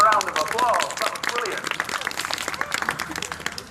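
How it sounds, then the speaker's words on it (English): An audience at a sea lion show claps: a dense, steady patter of many hands, fairly loud, with a person's voice talking over the start. "Give him a round of applause"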